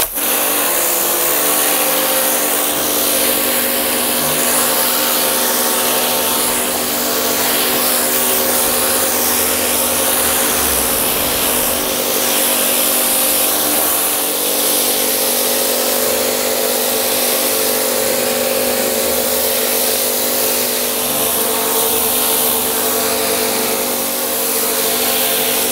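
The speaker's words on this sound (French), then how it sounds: "Appuyez sur la gâchette et on y va." Kärcher pressure washer fitted with a Delta rotary brush runs continuously at close range, a steady loud motorised whine and hiss of spraying water throughout with no pauses.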